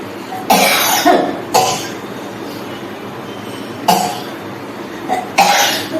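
A woman coughs several times, close and loud, in short harsh bursts separated by pauses, with no talking.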